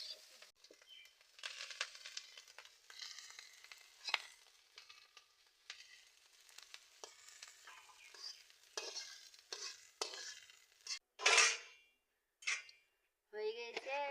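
Okra, potato and egg are stir-fried together in a pan with a quiet, steady sizzle. Spatula scrapes and stirring run throughout, with a few sharper metallic clanks and pauses toward the end.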